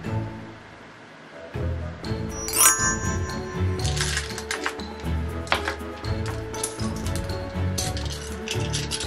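Dice clatter and click with bright, sharp rattles, loudest around the middle, over a busy bed of low rumbling background sound and faint voices in a kitchen cooking setting.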